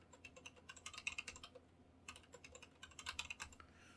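Security key being typed on a computer keyboard while encrypting a Linux install, quick soft key clicks in two bursts with a short pause between, close and quiet, with no talking.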